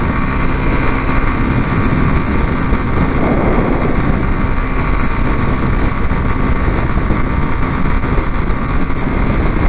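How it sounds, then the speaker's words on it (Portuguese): A 125 motorcycle engine and exhaust on the move, a dense, continuous rumble with wind noise, steady and close throughout without a break. "Só pra escutar o escape, né, cara? O barulho do tesão."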